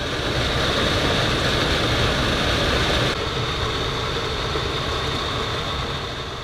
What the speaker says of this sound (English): And it's wheels up. We are airborne. The interior of this Cessna Caravan is about the size of a minivan